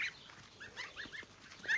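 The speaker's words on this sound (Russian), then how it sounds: "Гуси бегут, цыплята, еще хлеще бегут за ними." Geese and chicks running: small birds chirp and cheep in short bursts over a quiet, noisy background, with farmyard fowl calls scattered throughout and a louder call at the end.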